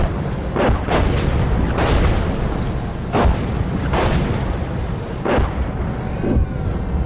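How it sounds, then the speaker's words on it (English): Heavy artillery fire in the tank game Combat Team, M1IP Abrams gameplay: repeated loud booming blasts land at irregular intervals over a dense, continuous rumble of battle. "Oh, the artillery fire is strong."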